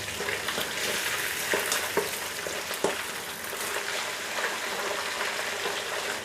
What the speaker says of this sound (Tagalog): Mainit na yung ating mantika, iprito muna natin itong ating ulo ng salmon.